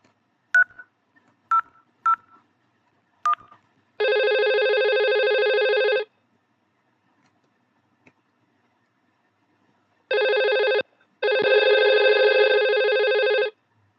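An IP phone on an enterprise VoIP network gives a few short key-tone beeps, then rings with a loud electronic tone in long, even bursts separated by silence, close and with no talking.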